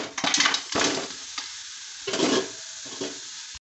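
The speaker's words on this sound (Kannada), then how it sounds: "ಚುರುಮರಿ ಹುರ್ಕೊಂಡಿದ್ನಲ್ಲ, ಈಗ ಅವನ್ನ ನಾನು ತೆಗಿ ಬೇರೆ ಪಾತ್ರೆಗೆ ತೆಗಿತಾ ಇದ್ದೀನಿ" Roasted puffed rice (churmuri) is scraped and poured from a pan into another vessel, giving crisp rustling, scraping bursts of dry grains against metal, close by and with short pauses between.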